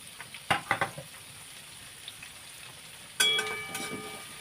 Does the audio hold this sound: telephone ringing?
no